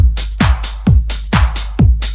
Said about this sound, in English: And all together, the drum loop sounds like this.